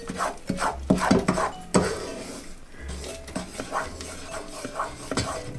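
A spoon scrapes and stirs a thick peanut chikki mixture in a pan, with close, irregular scraping strokes, clinks against the metal and a faint sizzle between them.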